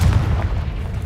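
A Confringo spell blast in Hogwarts Legacy bursts as one loud, dense, low-heavy boom that fills the whole short moment, heard alone.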